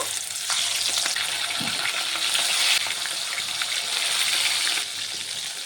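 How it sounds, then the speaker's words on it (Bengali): Bhetki fish frying in hot mustard oil, a loud steady sizzle and crackle that holds for several seconds close up, with no one talking. "প্রথমেই আমি ভেটকি মাছটি ভেজে নেব।"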